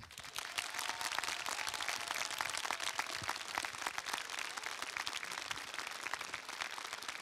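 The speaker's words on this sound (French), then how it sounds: "je vous demande un tonnerre d'applaudissements" Sustained, dense applause from a conference audience at the TGS Toulouse 2022 gaming convention, steady and fairly loud for the whole stretch with no break.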